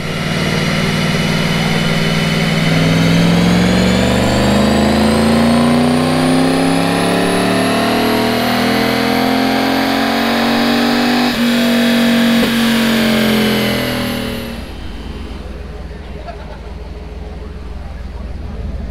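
A car on a dynamometer revs hard through a long sustained pull, the engine note climbing steadily for about fourteen seconds before the throttle lifts and the sound falls away to a lower rumble.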